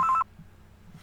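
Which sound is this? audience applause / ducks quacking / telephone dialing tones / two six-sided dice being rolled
telephone dialing tones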